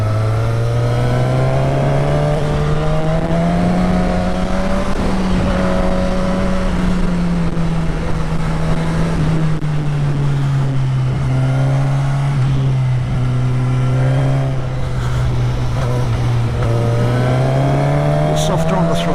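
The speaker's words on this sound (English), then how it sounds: "Max, a little softer on the throttle, smoother" A race car engine under throttle on a track drones loud and continuous, its pitch rising and falling smoothly as the car moves through turns, with no break in the sound.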